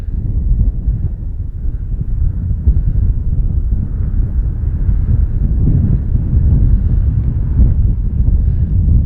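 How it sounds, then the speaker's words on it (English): Strong gusts of wind buffet the microphone outdoors at an RC plane flying session, a loud, continuous low roar that swells and rumbles without pause. "Gust of wind."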